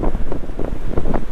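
Strong, cold gusting wind on the north side of Peters Mountain on the Appalachian Trail in Pennsylvania roars and buffets the microphone in rising and falling surges, loud and continuous with no other sounds.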